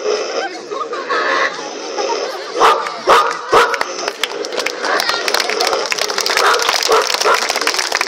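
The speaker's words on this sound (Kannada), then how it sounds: "ನಾಯಿಗಳು ಯಾವ ರೀತಿ ಬೇಯ್ತಿರ್ತಾವ" Dogs bark in sharp, repeated bursts, several close and loud, layered over a continuous murmur of voices and background noise throughout.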